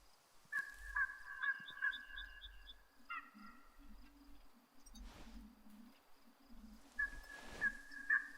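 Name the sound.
birds flying off, in video game Way of the Hunter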